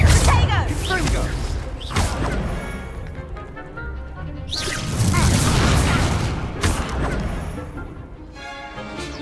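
Confringo fire spell blasts in Hogwarts Legacy, heavy booming impacts with whooshing bursts recurring several times across the clip, loud and close under game music and effects.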